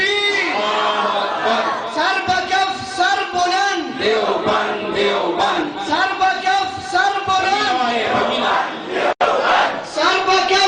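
Large crowd at a Khatm-e-Nabuwat religious conference chanting the Takbir slogan Allahu Akbar in loud call-and-response, a leader's amplified shout answered by massed voices in repeated rhythmic bursts.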